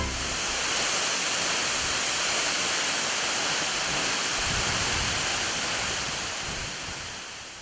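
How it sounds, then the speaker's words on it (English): Tagbo waterfall in Ghana roars as a dense, continuous wash of falling water, loud and close, steady throughout and easing slightly at the end with no voices. "Such a beautiful waterfall."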